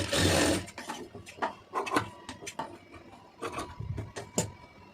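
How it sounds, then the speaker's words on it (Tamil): A sewing machine stitches a saree border puff sleeve in short irregular bursts of rapid mechanical clatter, loudest at the start and then stopping and restarting, close by. "கரெக்டாக ஒரு படிமானமாக ஒரு தையல் போட்டுருங்க"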